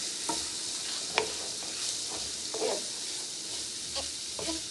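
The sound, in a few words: stirring onions and green peppers with seasoned cheesesteak meat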